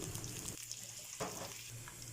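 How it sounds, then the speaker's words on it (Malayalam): Mustard seeds, curry leaves, ginger and garlic frying in a pan give a steady, quiet sizzle with brief louder bursts, heard close and without talk. "നമ്മളൊരു പാനിൽ കടുക് പൊട്ടിച്ച് നമ്മുടെ കറിവേപ്പിലയും നമ്മൾ അരിഞ്ഞു വെച്ചിരിക്കുന്ന ഇഞ്ചി വെളുത്തുള്ളി എല്ലാം കൂടി ചേർത്ത് അതൊന്ന് മൂപ്പിച്ചെടുക്കുകയാണ്"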